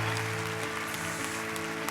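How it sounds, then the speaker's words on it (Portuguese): Applause from a church congregation at an encouragement meeting, a steady dense wash of clapping filling the clip under sustained music-like tones. "Aplauda Jesus pela vida deles."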